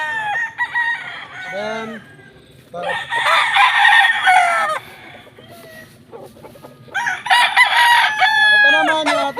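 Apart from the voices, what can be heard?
Madigan Gray gamefowl rooster crowing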